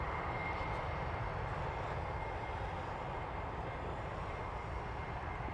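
A UPS MD-11 cargo jet running up its engines at Toronto Pearson, a broad steady roar holding at constant loudness, dense and unbroken, with no talking.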